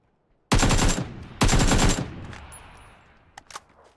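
A Kalashnikov rifle fires two sharp full-auto bursts in PUBG, each close and loud and lasting about half a second. A brief ringing tail and a couple of faint clicks follow.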